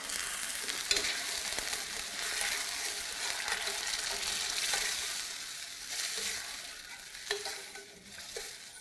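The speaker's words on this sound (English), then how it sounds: "To our onions and garlic, we're adding the tomatoes." Tomatoes added to onions and garlic cooking in a pan, a continuous moist sizzle with occasional stirring scrapes and clicks, close and fairly soft, no talking.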